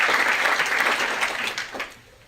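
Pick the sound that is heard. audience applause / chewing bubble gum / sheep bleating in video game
audience applause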